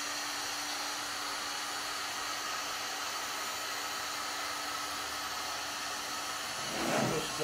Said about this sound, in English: I can just use my heat gun or hair dryer